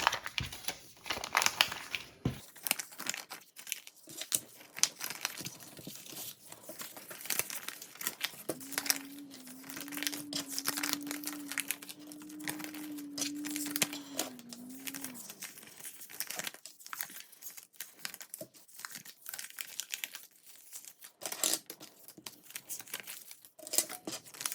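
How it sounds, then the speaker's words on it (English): Paper banknotes being unfolded and handled, with close crinkling and rustling in irregular bursts and a brief tearing sound, plus a faint sustained tone in the middle. "So I unfolded this one and it legitimately tore."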